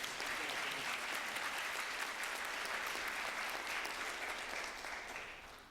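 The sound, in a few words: applause for Mr. Eastman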